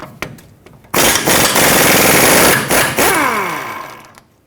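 Impact wrench loosening the rear shock mounting nut with an 18mm socket on a 2011-2016 Ford F-350 Super Duty, a loud sustained rattling burst after a brief quiet lead-in, then tapering off with a few short stutters.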